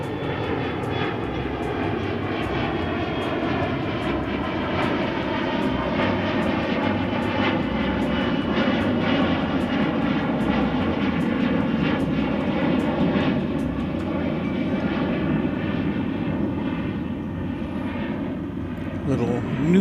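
An airplane departs a runway at DFW Airport with a loud, sustained engine roar that holds steady throughout, nearby and dominant, with a faint voice underneath.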